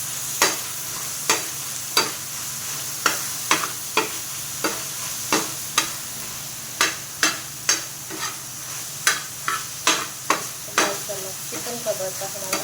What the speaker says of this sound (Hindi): बस हम हल्का सा सौते ही करेंगे।